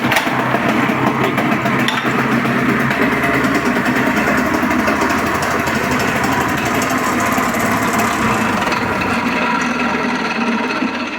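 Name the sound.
engine starting and idling in frost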